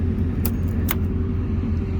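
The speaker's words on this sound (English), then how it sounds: "I wonder why the truck's revving way too high." A 1963 Land Rover Series 2 truck engine runs at a steady high idle, a loud close rumble throughout with a couple of brief metallic jingles on top.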